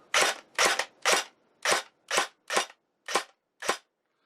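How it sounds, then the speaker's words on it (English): An unloaded battery-powered airsoft gun fires on semi-automatic, giving eight sharp, snappy shots at a steady, slightly uneven pace, close and loud with no other sound. "So we'll put it onto semi-automatic and I'll show you how snappy this gun is."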